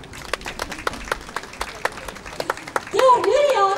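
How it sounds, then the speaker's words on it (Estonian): An audience at a barrel organ event in Tartu breaks into applause, a run of sharp scattered claps from a smallish crowd, followed by someone speaking over the last of it. "Palun teeme ühe suure aplausi."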